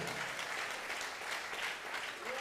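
A church congregation clapping at an anniversary worship night, dense continuous applause filling the room at moderate level, steady throughout.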